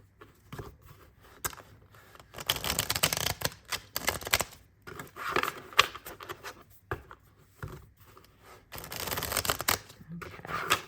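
Cards of a thick deck riffle and slap together in repeated bursts of papery shuffling, close up, with quiet pauses between each pass.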